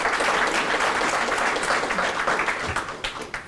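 An audience claps loudly and densely at a live Hindi talk event, a thick burst of applause that holds steady before thinning out into scattered claps near the end.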